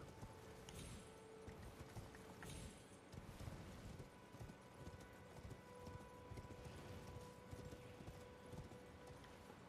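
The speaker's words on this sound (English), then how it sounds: "So just go on your horse." A horse galloping in Elden Ring, a continuous stream of clip-clop hoofbeats with faint ambient game sound, quiet and steady throughout.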